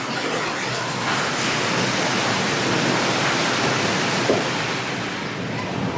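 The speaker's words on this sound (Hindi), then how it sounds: "तो ये डैम से पानी आ रहा है और डैम से पानी यहाँ पे आता है" Water from a dam rushes through a large pipe supplying a city, a steady loud broadband roar that fills the whole stretch without pause.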